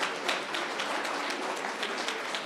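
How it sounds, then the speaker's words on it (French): A small audience at a startup pitch event gives fairly sparse applause, individual claps standing out in an even patter that runs through the whole moment without talk. "Est-ce que vous pouvez faire un tonnerre d'applaudissements pour la première start-up"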